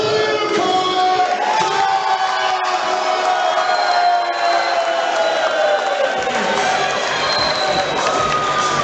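A large crowd at a Fury of Fights (FOF 6) combat event cheers and shouts loudly and continuously after the winner is announced, a dense roar of voices that swells and carries on without a break.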